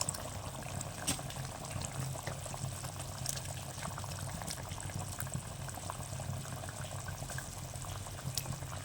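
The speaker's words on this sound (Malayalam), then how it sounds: "പുളിവെള്ളം നല്ലോണം തിളച്ചിട്ടുണ്ട്" Tamarind water boils in a pot for river fish curry, a faint continuous bubbling and simmering with small pops and no voices.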